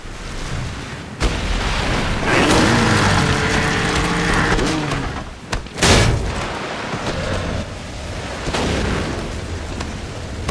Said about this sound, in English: as you probably noticed from all that fire coming out of his hand